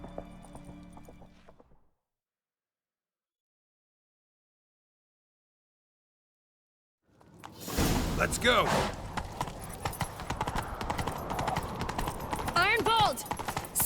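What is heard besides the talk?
horse hooves galloping in a chase, from The Witcher 3 video game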